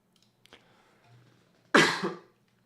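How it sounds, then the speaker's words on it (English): A single sharp, raspy cough close by, preceded by faint throat sounds in an otherwise quiet room. "I apologize for the cough"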